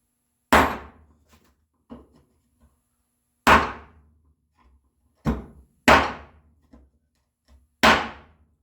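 A mallet strikes a 1.5-inch chisel while cutting a dado in walnut for a hand-tool bookcase: six sharp, solid thwacks at uneven intervals, alone and close, with faint taps in between.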